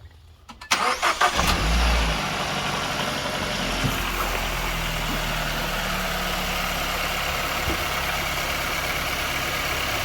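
A Kia Sportage 1.6 T-GDI petrol engine, fresh from an oil change, cranks briefly and catches, then settles into a steady, even idle heard up close for the rest of the time.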